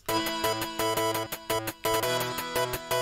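A synth bass line holds on E beneath repeated chords in a techie build-up for a skeleton boss battle theme, with steady pulsing hits and a bright layered texture and no voices.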